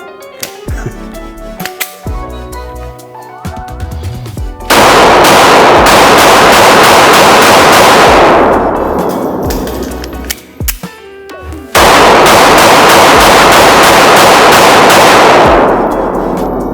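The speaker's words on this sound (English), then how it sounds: "We're gonna dump these last 2 mags and we're gonna hit the 1500 mark" A Smith & Wesson Bodyguard 2.0 pistol fires two full magazines in rapid strings on an outdoor range. Two loud, close bursts of fast shots are separated by a short pause, and quieter handling noise comes before them.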